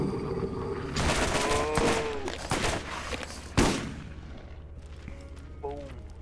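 Rapid gunfire in the VR shooter game Borderlands VR crackles in dense bursts, with sharp loud shots and booming blasts, one heavy shot standing out, then fading to scattered pops and a few tonal game effects.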